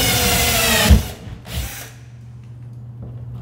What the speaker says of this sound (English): we're going to pre-drill the holes a little bit